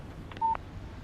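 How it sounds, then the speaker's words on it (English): A brief electronic phone alert tone for a text message in the Alan Wake video game, a couple of short beeps sounding once, moderately faint against a quiet background. "What did I tell you? Text message from Barry"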